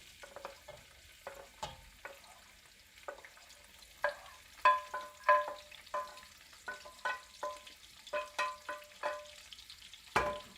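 Chopped onions and peppers hitting olive oil and rendered bacon fat in a pan, a soft sizzle with repeated spoon scrapes and knocks that grow louder midway, no talking.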